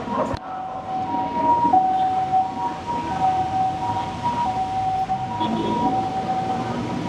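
An ambulance siren wails steadily in the distance over a busy outdoor street bustle, its tone holding and shifting without pause.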